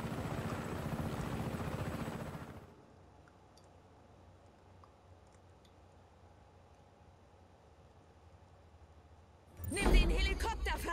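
A helicopter in the video game Just Cause 3 roars loudly for about two seconds and then cuts off. A quiet lull follows, and a voice starts speaking near the end.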